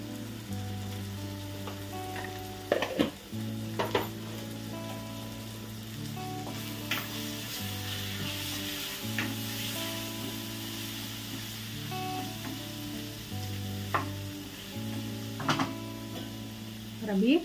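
Potato and sesame chutney frying in a pan at home, a steady close sizzle with occasional stirring clatters and a few louder scrapes; no talk.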